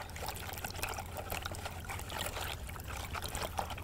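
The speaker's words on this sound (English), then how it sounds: "I'm just adding a little bit of water at a time, trying to mix that as thoroughly as possible." Water is added a little at a time to a fishing groundbait mix for tench, producing a faint, steady trickle and splashing with light mixing noises.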